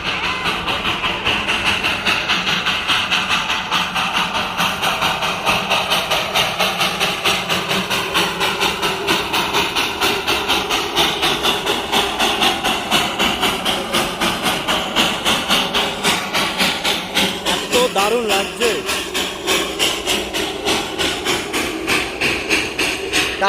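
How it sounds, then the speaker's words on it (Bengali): A Darjeeling steam locomotive chuffs loudly in a fast, steady rhythm as it approaches, with hissing steam and heavy mechanical clatter that continue without a break. "দেখুন সামনে থেকে আসছে বাষ্প চালিত ইঞ্জিন"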